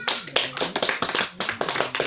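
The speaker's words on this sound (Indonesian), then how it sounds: "tepuk tangan dulu untuk Ibu Rika." A small group at a community finance meeting claps together, a brisk, uneven patter of many hands close by with no talking.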